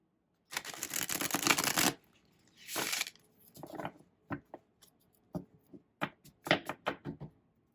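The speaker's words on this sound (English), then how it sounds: "One more shuffle, friends" Tarot cards are shuffled by hand at close range, a long riffling burst followed by a shorter one, then a string of soft taps and slaps as the deck is squared and cut, with no talking.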